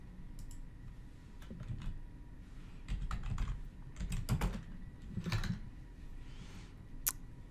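Fingers type on a computer keyboard while entering search tags for an online store listing: faint, irregular bursts of quick key clicks with short pauses between them, no voice.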